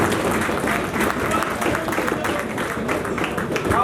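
Audience applause at a mushaira poetry gathering in Layyah as poet Nadeem Bhaba is welcomed, a dense steady wash of clapping from a crowd, continuous and fairly loud throughout.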